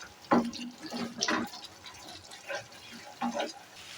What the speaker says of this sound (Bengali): এরপর দিয়ে দিচ্ছি গরম জল